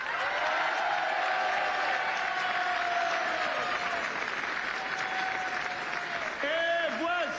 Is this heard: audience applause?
yes